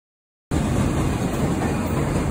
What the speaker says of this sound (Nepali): ट्रेन पनि आइपुग्यो।